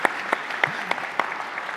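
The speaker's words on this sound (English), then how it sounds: "that applause is for Faye" Audience applause for Faye at a Sunday art and stories gathering, a dense steady patter of many hands with a few louder claps standing out, close and continuous for under two seconds.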